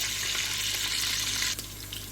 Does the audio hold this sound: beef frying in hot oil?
yes